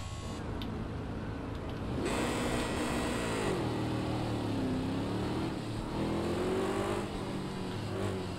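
Ginetta G55 GT3 race car engine in Project CARS 2 at the Nordschleife, a steady loud engine drone that rises and falls in pitch as the car revs, heard alone without talk.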